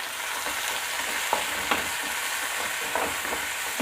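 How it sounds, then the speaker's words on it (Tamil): Tomatoes sautéing with onions in a pan give a steady close sizzle and frying crackle, with a few soft stirring scrapes scattered through the short stretch. "தக்காளியை சேர்த்து நல்லா வதக்கி விட்டுக்குருவோம்."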